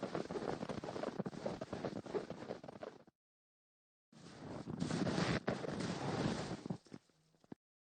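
Blizzard wind howls and roars in a visual novel game, loud gusting bursts that cut off into a second of silence, then return and fade out.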